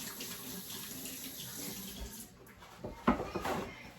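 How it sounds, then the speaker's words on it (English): Water runs from a sink tap as egg yolk is rinsed off hands, a steady close splashing stream that swells louder near the end. "I gotta wash some of the egg yolks off my hands as well."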